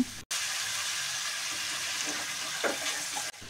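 Potato slices and frozen drumsticks being stirred in a frying pan, a steady close sizzle with soft occasional scrapes and brief cuts in the sound.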